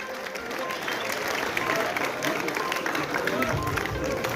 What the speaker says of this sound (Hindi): लगातार तालियां बजाएं